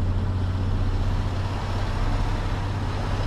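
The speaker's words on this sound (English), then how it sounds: "Very noisy lorry." A loud, steady drone of a noisy lorry engine in Euro Truck Simulator 2, a constant low hum cruising along a motorway.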